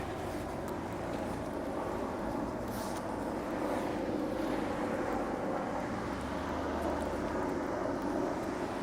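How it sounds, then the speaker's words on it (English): A helicopter passes over an evening street in Toronto near Casa Loma, a steady broad rumble with wind noise that holds at a constant level throughout. "we got some helicopter action"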